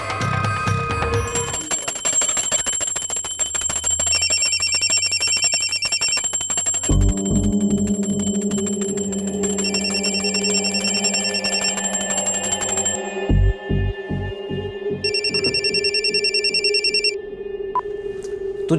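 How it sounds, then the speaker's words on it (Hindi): A telephone bell rings in repeated bursts over background music, loud and close, with pauses between the rings. "अभी फोन की घंटी बजाने की क्या जरूरत थी?"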